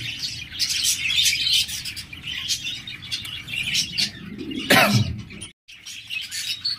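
Big-size English budgerigars, kept as a caged pair, chirp and chatter steadily close by, with a few sharper calls and a brief flutter near the end.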